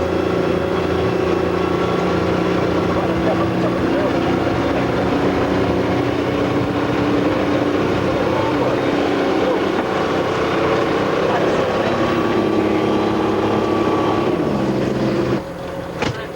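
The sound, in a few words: amphibious vehicle driving through water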